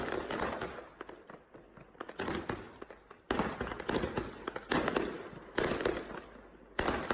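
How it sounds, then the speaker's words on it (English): Fireworks set off against a bulldozer in China, a rapid, loud string of crackling bursts and pops that come in dense volleys with short gaps between them. "Man in China uses fireworks to fight off bulldozer sent to demolish his house."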